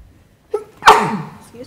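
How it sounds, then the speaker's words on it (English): A single sharp sneeze bursts out in a quiet county planning and zoning commission hearing room, close and fairly loud, preceded by a short intake of breath. "Excuse me. Bless you."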